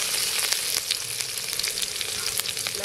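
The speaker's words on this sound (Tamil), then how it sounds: "நல்லா வெங்காயத்தை பொன்னிறமா வதக்குவோம்" Onions sautéing in peanut oil with mustard seeds and dried red chilies for a village-style South Indian yam masiyal, a dense, continuous sizzle with soft crackling and occasional stirring, close and steady without speech.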